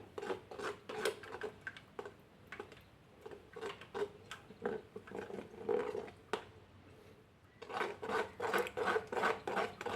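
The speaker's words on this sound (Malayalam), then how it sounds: "ഒരു സ്പൂൺ വെച്ച് പതുക്കെ ഒന്ന് പ്രസ് ചെയ്ത് കൊടുക്കാം." A spoon presses orange pulp through a juice strainer, making a repeated close scraping and rasping in short strokes, fairly faint, with a quicker run of strokes near the end.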